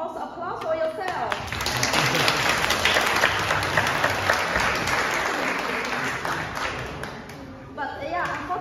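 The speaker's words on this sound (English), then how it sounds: "So maybe give also applause for yourself." Audience at a students' concert applauding, a full sustained burst of clapping that swells and holds, with a speaking voice briefly at the start and again at the end.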